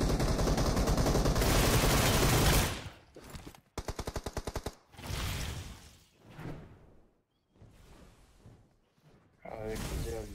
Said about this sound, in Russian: Ну я слышал ту стрельбу.